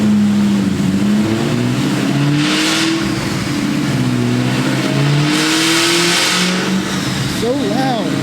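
A Ford Terminator Cobra engine with a ported Eaton supercharger and big cam revs loudly and up close. Its pitch swells and falls repeatedly over a constant roar, ending in a rising wail from the supercharger.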